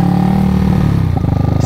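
Loaded motorcycles drag racing, a Sniper against a Raider with a carburetor, engines buzzing loudly nearby with a quick rising rev and a rattling note.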